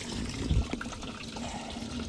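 Water sloshes and swirls inside a sinking fishing boat that is taking on water through its missing drain plug, a steady close washing rush with a brief thump.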